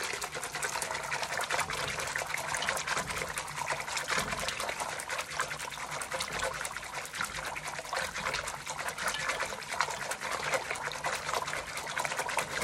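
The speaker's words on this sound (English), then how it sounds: "I'm going to keep whisking so that it doesn't clump up as it's going in" Liquid pouring steadily into a soup pot for cream of chicken rice soup while a whisk works through it, a constant close splashing trickle with a faint metallic scrape, no talk.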